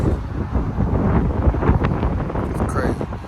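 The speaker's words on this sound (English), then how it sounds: "It's windy, y'all. Okay, it's windy." Steady, blustery wind roars and buffets the microphone throughout, a dense low rumble with occasional stronger gusts; faint voices mix in.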